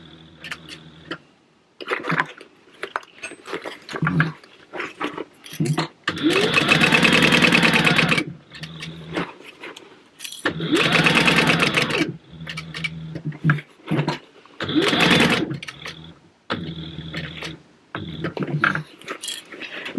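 A sewing machine with a 12 needle stitches fabric for a food box at a quarter-inch seam, in several loud bursts of a few seconds each, separated by pauses with light handling clicks.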